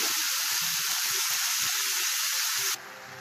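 Long beans sizzle steadily in a hot pan while being stirred for a Kerala-style stir fry, a loud continuous frying hiss with faint scraping underneath that drops off sharply near the end.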